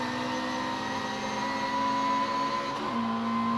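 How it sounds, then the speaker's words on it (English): A classic racing car with a Lotus twin cam engine revs at the Silverstone Classic 2016 race meeting. It makes a loud, steady, close engine drone that drops sharply in pitch near the end. "the car sits there revving its Lotus twin cam engine"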